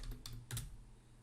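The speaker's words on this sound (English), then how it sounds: "so I'm going to type the question first" Keys clack on a computer keyboard as a quiz question is typed, a few quick clustered bursts of close, moderately quiet keystrokes with a low background hum and no talking.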